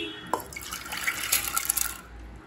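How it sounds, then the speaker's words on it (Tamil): Water poured into a pot of soaked toor dal for tomato dal, a short splashing, trickling pour lasting about two seconds, close and moderately soft, with no talking. "1 கப் தோரம் பருப்பை 10 நிமிஷம் ஊற வச்சு சேர்த்துக்கலாம்."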